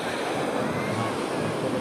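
Sea waves wash in where a river meets the Arabian Sea at Poovar Island near Thiruvananthapuram, Kerala: a continuous, even surf roar with a windy hiss throughout.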